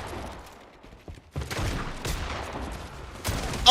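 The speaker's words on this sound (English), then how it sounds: "all I could do is just shoot my shotgun" Shotgun blasts in a video game fired in quick succession, loud and close, with a burst of fire near the end and little talk over it.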